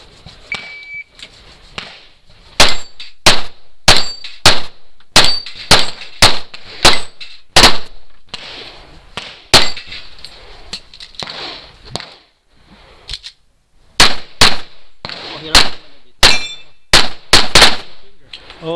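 Gunshots at a USPSA shooting match with steel targets: dozens of loud, sharp shots in quick rhythmic strings, with brief pauses between strings as the shooter moves through the stage.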